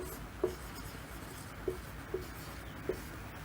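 A pen writes out a class 10 trigonometric identity math problem, with quiet scratching strokes punctuated by four soft taps against the page.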